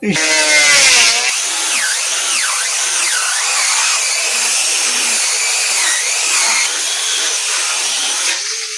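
A woodworking machine runs over a wooden tabletop in its final finishing pass, a loud, close, continuous whine whose pitch sweeps up and down as it works the surface, with no voices.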